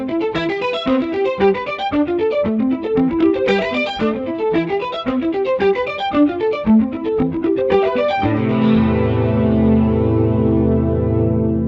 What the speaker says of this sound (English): some extreme electronic, modulated, and synthesized sounds